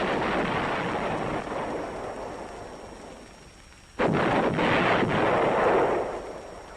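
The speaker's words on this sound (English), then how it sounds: "Army artillery has met these demands with massive firepower, using a wide variety of field pieces." Heavy Army artillery fire from field pieces in the Vietnam War: a sustained rumbling barrage, then a sudden loud blast at about four seconds that rolls into a dense, booming roar to the end.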